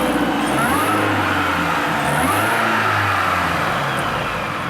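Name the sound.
2004 Mini Cooper S R53 driving at 3,500 RPM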